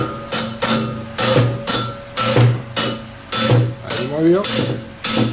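An engine oil dipstick is being knocked out of a Toyota 2C engine with about ten sharp, evenly spaced metallic taps up close, and someone speaks briefly between them.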